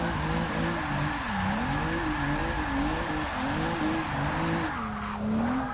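A heavy Rolls Royce drifts and spins out in the racing game Forza 6, its tires squealing continuously in wavering loops over a steady, loud engine drone, with no talk.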